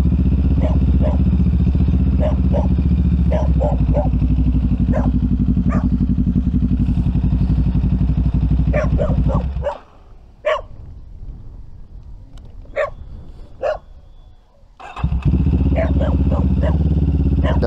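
A dog barks repeatedly in short bursts over a loud, steady idling motorcycle engine at a hillside campsite in Batangas. The engine drops out partway through, leaves a few seconds of quieter ambience and scattered barks, then returns.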